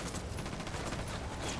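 Dense rattling gunfire from the Ghost Recon Wildlands video game fills a short burst, a steady blur of rapid shots without pauses.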